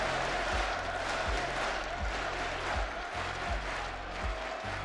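A crowd at the IEM Katowice esports tournament makes a steady roar of cheering and applause during a Counter-Strike match, with rhythmic thumps underneath, all fairly distant and moderately loud.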